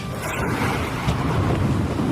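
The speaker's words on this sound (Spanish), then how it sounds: "cuando se desató una tormenta tan fuerte que las olas se metían en la barca" A thunderstorm effect rumbles continuously with heavy wind and rain noise, loud and steady throughout, with no voices.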